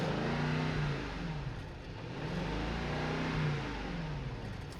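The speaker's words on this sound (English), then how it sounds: "would you like to listen to the car from the outside?" 2022 Maybach S580 heard from outside as its engine revs in several rising and falling swells, fairly quiet and distant, with no talk.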